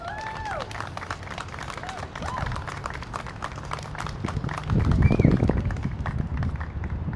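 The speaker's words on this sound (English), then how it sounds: "Can we give that a round of applause, please?" A crowd claps at a Rhode Island Black Lives Matter PAC observance, with steady mid-level applause that swells louder toward the end. Faint chirping tones rise above it.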